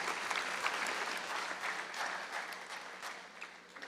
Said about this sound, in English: You need to give yourself a round of applause